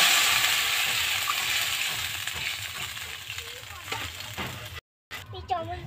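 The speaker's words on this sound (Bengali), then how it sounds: "এবার আমি সামান্য জল দিয়ে দিলাম" Oil sizzling loudly in a pan with fried garlic and radhuni seeds, the hiss fading as a little water goes in, followed by a brief cut and some stirring clinks near the end.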